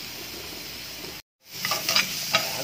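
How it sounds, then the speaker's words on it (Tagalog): Tomatoes sautéing in a hot pan for sinigang, a soft steady sizzle that cuts out briefly, then returns with a few scraping stirs, close and alone. "Gigisa ko na rin itong kamatis"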